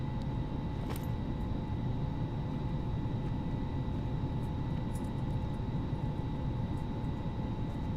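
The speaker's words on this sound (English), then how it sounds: "we'll go ahead and taxi ourselves over to runway 15 for departure" An Airbus A320 (FlyByWire A32NX mod) taxiing toward runway 15 in Microsoft Flight Simulator, a steady, unbroken engine drone with a faint whine on top and no gaps.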